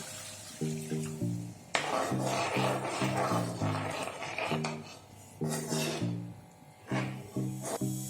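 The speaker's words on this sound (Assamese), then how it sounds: "ভাজি থকাৰ পিছত এতিয়া ইয়াত এবাটি গৰম পানী দি দিম।" Hot water is poured into frying fish curry with magaj, turmeric, chili powder and fenugreek. It sets off an abrupt, loud hiss that keeps sputtering over background music.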